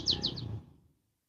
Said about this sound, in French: Alors, oh, il y a des chants d'oiseaux aussi en France